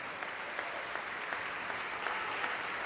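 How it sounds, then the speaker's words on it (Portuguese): A church congregation claps continuously at a worship service, a steady mass of hand claps with a few sharper individual claps standing out, no talking. "Vamos aplaudir mais, igreja."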